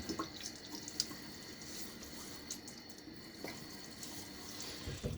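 Cold tap water running into a sink for rinsing the face before a shave, a steady close rush of flowing water with faint drips and splashes throughout and no talking.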